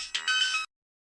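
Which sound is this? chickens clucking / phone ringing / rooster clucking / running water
phone ringing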